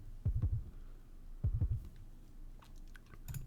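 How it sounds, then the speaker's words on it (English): Heartbeat sound effect from the visual novel Root Double: two clear double-thump lub-dub pairs, deep and close, spaced about a second apart, followed by a faint third beat beginning at the end, with no voices. "He heard the beating of a heart."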